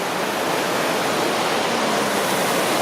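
Sweden's highest waterfall roars as a dense, steady rush of falling water, loud and unbroken, with no other sounds over it.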